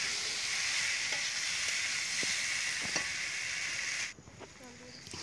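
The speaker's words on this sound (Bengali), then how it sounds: "তেল ভালো করে নাড়াচাড়া করে নেব।" Cauliflower and potato sizzle and crackle steadily as they are stirred and fried in hot oil, a close, continuous frying hiss with occasional spoon scrapes that drops away abruptly near the end.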